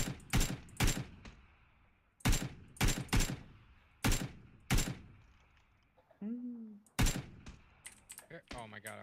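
Gunfire in a shooting video game during a squad match: several loud, sharp shots fired in quick bursts and pairs, with a brief voice and some clicking near the end.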